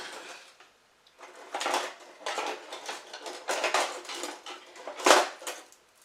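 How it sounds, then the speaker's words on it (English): Metal whisks clink and rattle against each other while being pulled apart in a kitchen, a run of irregular jangling bursts with one sharp louder clang near the end. "whisk that up if I can get my whisks untangled"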